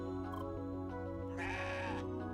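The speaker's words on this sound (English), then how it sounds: "Playful goat noises. Neutral goat noises." Goats bleat in the video game CrossCode, a few wavering, nasal cries in quick succession over a steady musical background, with one longer, louder bleat near the end and no speech.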